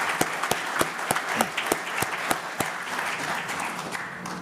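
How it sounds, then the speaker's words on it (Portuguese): Steady applause from an audience at a brand awards ceremony, the Top of Mind Marcas de Sucesso in Minas Gerais, with sharp claps standing out over a dense wash of clapping that fades slightly toward the end. "Nós solicitamos uma salva de palmas às marcas vencedoras da categoria Liderança"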